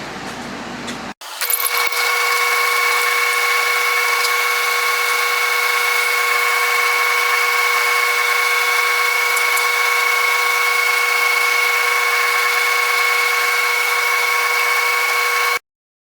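A drill press whines steadily as it bores a square hole into spalted oak, a loud continuous high-pitched drone that starts suddenly, runs unbroken for many seconds, then stops.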